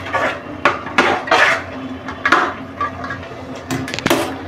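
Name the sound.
pressing and mixing mawa into halwa in a pan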